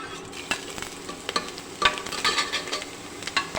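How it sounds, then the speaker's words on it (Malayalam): Fennel seeds, cardamom, cloves and bay leaf hit hot oil in a pan for a mutton curry, crackling and sizzling steadily up close while a utensil stirs and scrapes through them. "ഇതിലേക്ക് നമുക്ക് കുറച്ച് പെരിഞ്ജീരകം, ഏലക്ക, ഗ്രാമ്പു, വയണയില, ഉണക്ക ഇതുകൂടി നമുക്ക് ഇതിലേക്ക് ചേർത്ത് കൊടുക്കാം"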